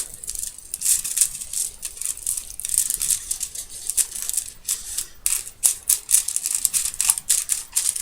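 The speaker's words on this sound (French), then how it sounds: "mon ciseau veut pas couper" Scissors struggle to cut card paper for a birthday card, producing close, repeated crisp snipping and crunching bursts with uneven, halting rhythm and no talking.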